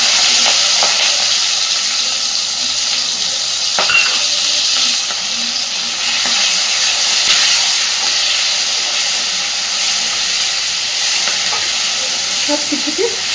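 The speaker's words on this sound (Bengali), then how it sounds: "তেলেই এবার আমি ফোড়নে দিচ্ছি একটু কালো জিরে, আর দিচ্ছি পেঁয়াজ কুচি, টমেটো কুচি আর চেরা কাঁচা লঙ্কা।" Black cumin seeds, chopped onion, tomato and slit green chillies fry in hot oil with a steady close sizzle and hiss, broken by occasional stirring scrapes, for the whole stretch without any talk.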